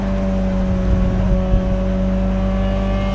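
Peugeot 206 GTI Tin Tops race car engine pulling hard on the power in a wet race at Donington Park GP, a loud steady onboard drone with harmonic whine holding throughout, no voices.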